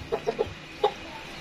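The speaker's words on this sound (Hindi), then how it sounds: "ये देखें तकरीबन 3 केजी का है जी माशाल्लाह मुर्गा जी" A large rooster of about 3 kg on a farm in the Multan area of Punjab gives a few quick soft clucks, three in a rapid row then one more after a short pause, close and fairly quiet.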